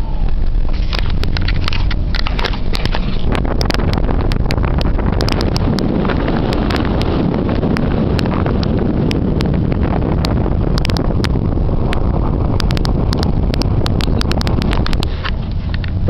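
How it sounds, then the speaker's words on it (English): Chevrolet Malibu skidding on about two inches of snow with the brakes held full on, heard with the window down: a continuous loud rush of wind and road noise with scattered crunching clicks from the snow under the tyres. "we're gonna see what the front wheel's doing when we skid"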